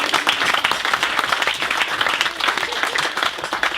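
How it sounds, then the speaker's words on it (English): Guests at a speech break into applause, a thick continuous crackle of many hands clapping, loud and sustained with no talking on top. "go on, have a clap, why not?"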